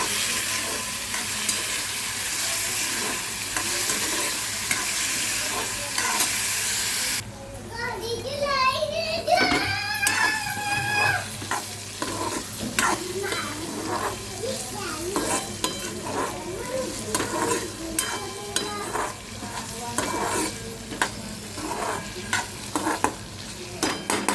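Food cooks in hot oil in a pan with salt added, sizzling steadily while being stirred; a loud hiss fills the opening seconds, then children's voices chatter over the frying and scraping.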